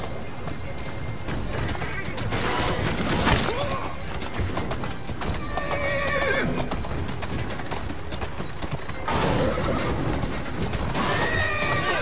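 A horse whinnies several times over steady clip-clopping hooves and busy background game sounds in Assassin's Creed Syndicate, loud and close throughout.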